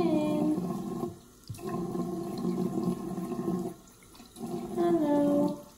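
Warm tap water runs for bathing rescued puppies, a steady splashing flow that briefly dips twice and then resumes, close by with no talking.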